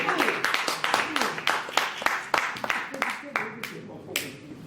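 Audience clapping at a press conference, many hands beating in dense, uneven rhythm close by for several seconds, thinning slightly toward the end.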